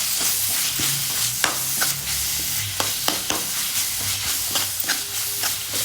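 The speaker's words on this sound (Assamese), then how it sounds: "ডিছটো এনেকৈ লৰাই দিব।" A chicken dish with red chilli powder is stirred in a sizzling pan. A continuous frying hiss runs underneath, with sharp spatula scrapes and taps scattered over it. There is no talking.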